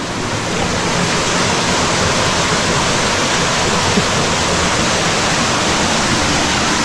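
A waterfall pours into a deep pool near Kununurra, a loud, steady, broadband roar of rushing water that continues unbroken throughout with no voices.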